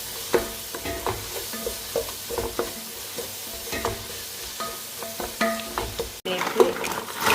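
Onion, garlic, ginger and green chili with salt are stirred in a pan while cooking for a crab roast, giving repeated scraping spoon strokes over a steady close sizzle, with a louder burst of frying near the end.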